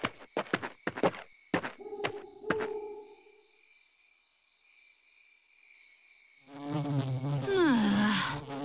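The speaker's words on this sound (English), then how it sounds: "now the bugs are out. Noisy, disgusting bugs that buzz around and crawl all over and bite you" Bugs buzz in Fire Emblem Awakening at dusk, a sustained high insect drone under a game soundtrack, with a run of sharp clicks early on and a swelling, louder buzz near the end.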